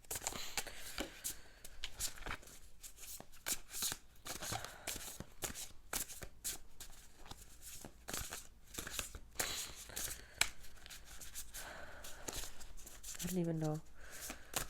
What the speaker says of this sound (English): I'm gonna draw or pull some tarot cards.